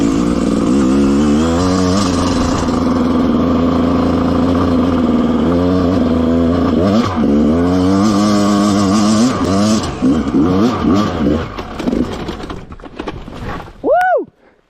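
Enduro motorcycle held in first gear while climbing a rocky slope, its engine droning loud and close with rising and falling revs, then surging briefly before cutting off at the end.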